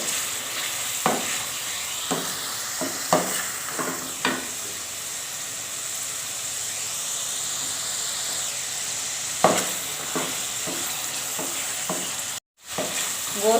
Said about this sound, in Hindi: ये हाफ के जी गोश्त है मटन का, इसकी अच्छी तरह भुनाई करनी है।